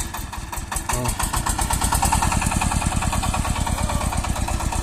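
A tractor's diesel engine chugs steadily up close while towing a trailer during a potato harvest, a loud rhythmic thumping that picks up after the first second and keeps running evenly.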